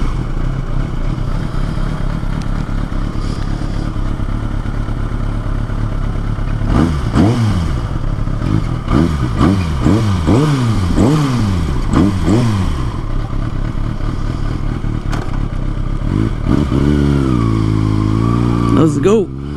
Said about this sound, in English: This bike starts up every single time.